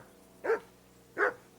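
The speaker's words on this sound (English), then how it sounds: "Henry, whistle at that mutt of yours to stop barking." Two sharp barks from a dog in the medieval role-playing game Kingdom Come: Deliverance II, spaced under a second apart, close and fairly loud against a quiet background.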